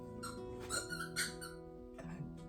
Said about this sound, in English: There's Mr. Bentley with his squeaky toy.